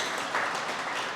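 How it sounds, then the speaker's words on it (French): Brief audience applause at a talk, a short burst of many hands clapping from a crowd, even and moderately loud for just over a second. "Et vous pouvez applaudir parce que c'est fun."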